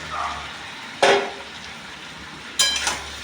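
Chicken pieces dropped into a pan of sauce and stirred, giving two bursts of sizzling and scraping over a low steady cooking hiss, close by and moderately loud.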